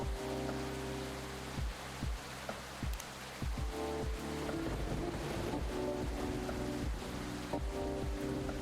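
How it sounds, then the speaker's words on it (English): Soft, steady rain ambience in the game Coffee Talk, a continuous hiss of falling rain at low level with faint muted thuds and a low music bed underneath, no voices. "This rainy season sure is something."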